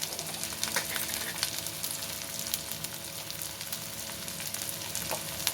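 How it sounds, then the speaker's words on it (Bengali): Ginger and green chilli spice paste sizzles steadily in a pan for a thin katla fish curry, a dense continuous crackle with occasional sharper pops as it is stirred, close and fairly loud with no talking. "এবার মশলাটা খুব ভালোভাবে কষিয়ে নেব"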